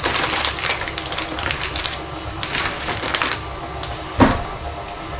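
A stand mixer creams butter and sugar for triple chocolate and oat cookie dough, giving a steady close-up rattling, knocking clatter with one sharper knock near the end.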